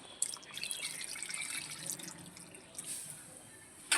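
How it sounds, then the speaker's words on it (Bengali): Water pours into a simmering potato chicken curry in a pot, a soft, close trickle and splash that runs for a few seconds, quiet and with no talking. "আরেকটু জল দিয়ে দিলাম"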